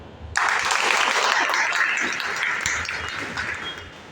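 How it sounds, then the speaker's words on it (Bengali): An audience at a CNT program clapping over and over, a sudden start swelling into a thick, sustained wash of applause that fades gradually. "আর যারা শুনছেন তারা বারবার তালি দিন"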